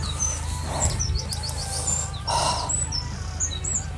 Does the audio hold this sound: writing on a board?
no